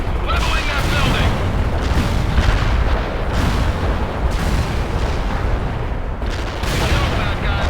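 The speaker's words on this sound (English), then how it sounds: "Delivering a rain of shells at target coordinates." Artillery shells rain down in the war game World in Conflict, a relentless heavy barrage of booms and bursts with a few sharp impacts, loud and near, under overlapping combat radio talk.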